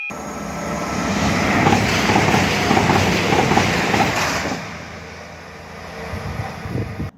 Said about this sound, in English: Oh, fantastic. A fourth train.